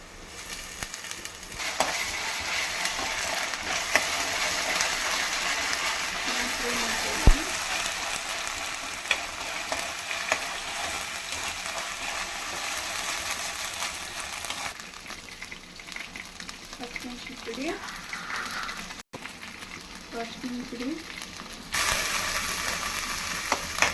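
Ginger garlic paste sizzles in a pan for chicken sukka, a continuous close frying hiss with occasional clinks and scrapes of a spoon stirring, lasting throughout.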